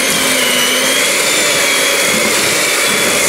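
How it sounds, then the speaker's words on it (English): An electric hand mixer running loud and steady, beating cupcake batter in a bowl on a low setting, a continuous high whirring drone with no voices. "So switch the mixer on, in and switch on"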